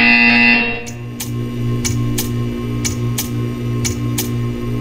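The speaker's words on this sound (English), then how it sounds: "You will hear a buzzer." In the video game Portal 2, a loud electronic tone fades and then gives way to a steady hum, with a series of sharp, evenly spaced buzzer-like clicks repeating about twice a second.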